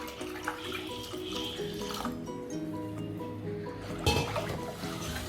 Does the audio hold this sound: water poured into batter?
yes